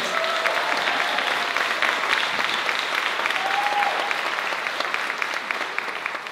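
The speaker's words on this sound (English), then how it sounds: "If we can give them a round of applause, please." An audience at a university division Q&A event gives a round of applause, steady and dense clapping that carries on for several seconds without talk.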